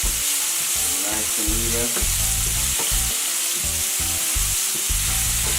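Haitian spices (épices) fry in hot oil for black rice with a dense, continuous sizzle, loud and close, while a spoon scrapes and stirs the pan and a voice speaks briefly.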